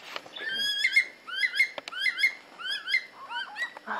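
Loud, repeated rising whistled curlew calls in quick succession in a desert park at Alice Springs, with chirps and a rustle near the end.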